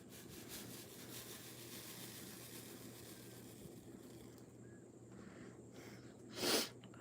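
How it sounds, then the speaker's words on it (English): A quiet room hum stretches on, then a single short, sharp sneeze bursts out near the end. "Where did that sneeze come from?"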